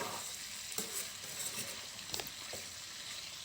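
Pork with bamboo shoot being stirred in a pan after simmering under a lid, with a soft continuous sizzle and several scraping spoon strokes, the last one a sharper knock against the pan.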